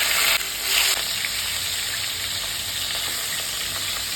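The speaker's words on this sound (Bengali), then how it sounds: "মাছের মাথাগুলো ভেজে দেব।" Fish heads sizzling in mustard oil in a wok, a steady loud frying hiss with a brief louder crackle near the start and no voices.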